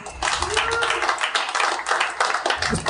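A comedy podcast's live audience claps and cheers in a brief, scattered burst of applause, with voices mixed in throughout.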